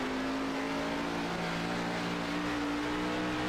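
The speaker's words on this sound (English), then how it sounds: "I think they're downshifting in at least turn 3 and 4." Race car engine in a sim-racing league broadcast at the Milwaukee Mile oval, a steady loud droning engine note holding throughout with no clear break, the gear changes not distinct.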